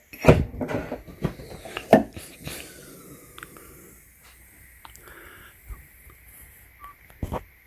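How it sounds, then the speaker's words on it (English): Trunk lid of a 2007 VW Rabbit Golf GTI being opened, a few sharp clunks and latch clicks near the start, then quieter handling rattles and a faint thud, close to the microphone in a quiet setting. "we're gonna open the trunk"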